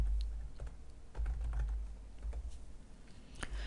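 Keys on a computer keyboard are tapped in short irregular bursts, close and quiet, over a low background hum.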